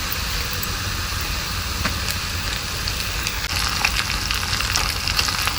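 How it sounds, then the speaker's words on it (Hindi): Garlic sizzling in hot mustard oil as a tempering for dal, a steady close-up frying hiss with small crackles and pops throughout. "सरसों के तेल से तड़का लगाएंगे। तो यहाँ पर डाल दिया है लहसुन।"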